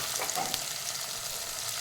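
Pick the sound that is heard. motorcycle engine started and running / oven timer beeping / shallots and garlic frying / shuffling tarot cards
shallots and garlic frying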